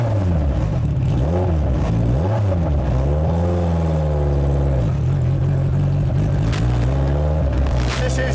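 A motorbike engine running close by and being revved, the pitch repeatedly rising and falling in blips over a steady loud idle.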